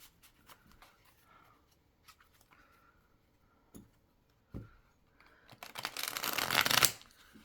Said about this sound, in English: Shuffling nicely.